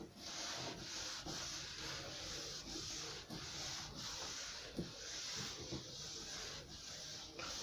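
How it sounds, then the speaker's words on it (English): Cloth wiping clear wax over IKEA wooden drawers, a soft steady rubbing hiss with rhythmic strokes, close and quiet, no talking. "I'm just going to give them a wipe over with the clear wax"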